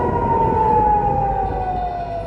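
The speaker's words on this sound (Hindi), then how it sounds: "इसीलिए जब भी कोई हमला होता है तो एक सायरन बजता है" A loud, sustained air raid warning siren wail holds one steady pitch and slowly sinks lower, droning continuously over a rumbling low background, in Israel.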